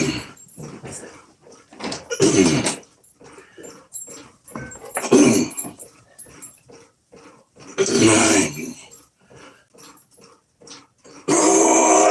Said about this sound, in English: Dogs might throw my count off.